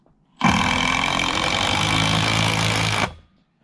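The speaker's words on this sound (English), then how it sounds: "And then drive these screws home." A power drill drives a screw into wood while building a saw horse, one sustained loud whirring burst of about two and a half seconds that starts and stops abruptly, close by.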